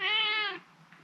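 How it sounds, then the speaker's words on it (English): A vocal cat indoors gives one close, clear meow lasting about half a second, followed by quiet room sound. "It's a very vocal kitty cat"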